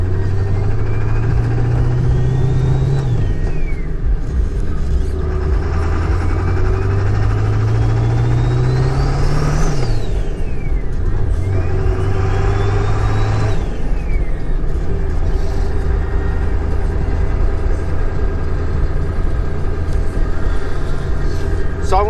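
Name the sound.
2000 Ford 7.3 turbo diesel truck engine driving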